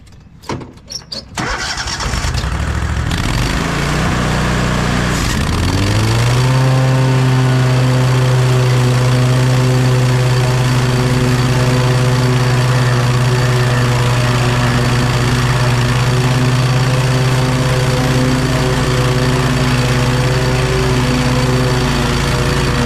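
Brand-new lawn mower in an overgrown yard: a few sputters as the engine catches, then a loud, close, steady droning run that holds to the end.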